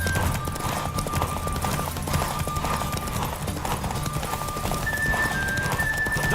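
A racehorse gallops in The Witcher 3, its hooves beating a fast, even clip-clop, close and constant, over a low game soundtrack with a brief neigh.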